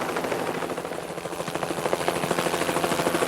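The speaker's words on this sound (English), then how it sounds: "This was no time for a chat with a helicopter" Near and loud, a helicopter flies with a steady engine whine under a rapid, rhythmic rotor chop that grows more pronounced toward the end, with no voices.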